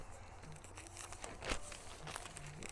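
Old newspaper sheets crumpled by hand before lighting a charcoal chimney starter for smoking pork butt, a faint, continuous crinkling rustle with a slightly sharper crunch near the middle, no talking.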